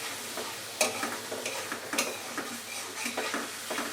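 Onion paste sizzles in hot soybean oil while it is stirred for shrimp bhuna, a soft steady frying hiss broken by light scraping and tapping from a utensil against the pan.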